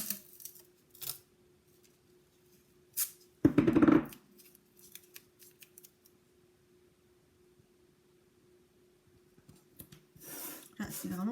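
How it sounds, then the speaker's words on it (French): Strip of masking tape pulled and pressed down to hold a sheet of paper in place, a short loud tearing rip around the middle with light handling rustles before and after, over a steady low background hum. "On va venir positionner un scotch de masquage, hein, tout simplement pour pouvoir tenir notre papier en place."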